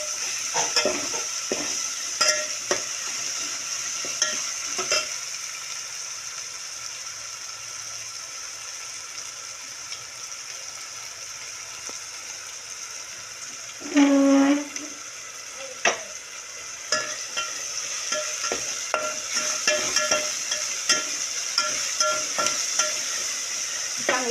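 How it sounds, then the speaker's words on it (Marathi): A chakolya mixture is stirred and sautéed in a pan, a soft, steady sizzle under repeated scraping and tapping of a spatula, with one brief louder clank partway through. "मिश्रण चांगलं हलवून घ्यायचं"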